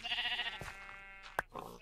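A sheep bleats in Minecraft on PS3, giving a short wavering cry with a second faint bleat later, fairly quiet against low background game sound.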